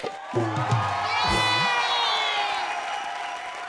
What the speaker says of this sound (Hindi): हाँ चलो यार, तालियां बजा दो एक बार।